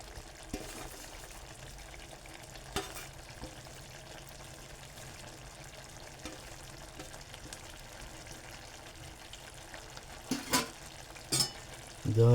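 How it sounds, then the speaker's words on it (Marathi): Guar bean and potato curry with finely chopped coriander is sautéed in a pan, giving a steady low sizzle with occasional scraping stirs and a few louder knocks near the end, with no one talking. "जर अशी परतून घेऊ."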